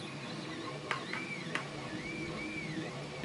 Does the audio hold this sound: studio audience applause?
no